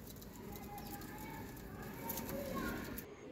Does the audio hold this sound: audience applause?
no